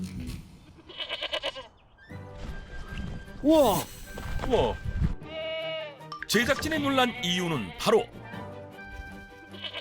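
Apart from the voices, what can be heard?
goats bleating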